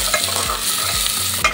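Pork frying in its own rendered fat with bay leaf, dried chili, onion, ginger and garlic, a steady close sizzle broken by a few scraping stirs of a utensil, no voices.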